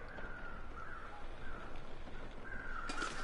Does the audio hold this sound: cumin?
no